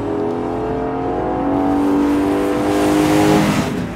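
A 2022 Lexus IS 500 engine revs hard, its pitch climbing steadily as it accelerates, loud and close, with a throaty roar and no talking.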